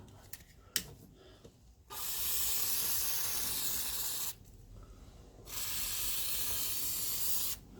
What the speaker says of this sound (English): I'm going to give them a good soaking in some penetrant fluid.